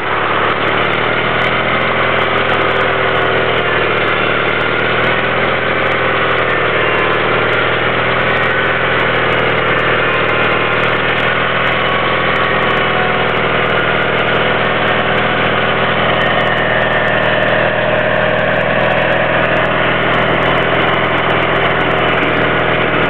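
A loud engine runs steadily and close, its droning hum holding an even pitch with slight wavering throughout, no voices heard.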